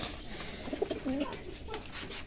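Pigeons in a loft give soft, low cooing calls in short bursts over a steady background hum, moderately near, with no one speaking.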